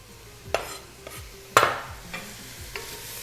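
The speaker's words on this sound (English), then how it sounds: "All right, we're going to saute" Onions, celery and garlic sauté in a pan for chicken tortilla soup, with a few sharp spatula scrapes and stirs over a soft, steady sizzle.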